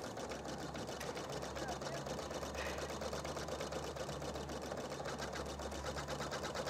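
A Husqvarna Viking Designer Diamond deLuxe embroidery sewing machine stitches steadily, its rapid mechanical whir and needle chatter running continuously at close range.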